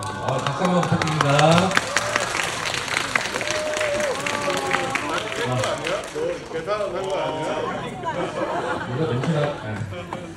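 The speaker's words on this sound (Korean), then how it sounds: "박수 한번 부탁드립니다." Cinema audience at an opening-day stage greeting for a film applauds steadily for about ten seconds, the clapping mixed with loud excited voices and chatter throughout.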